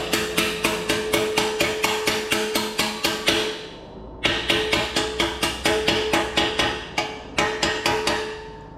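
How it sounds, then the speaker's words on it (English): A hammer bangs on a metal exhaust baffle in a steady, rapid series of sharp ringing strikes, close and loud, with a brief pause partway through. "I'm using the hammer, the side of my hammer, and kind of banging it down to get it flush."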